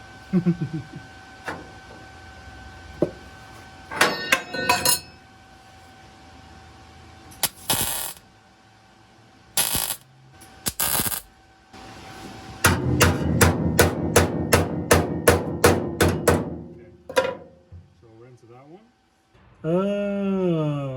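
Car body panel on a BMW Z3 body swap being struck with a hammer, with clusters of sharp metallic blows, then a long fast rhythmic run of hits, amid workshop noise and intermittent talk.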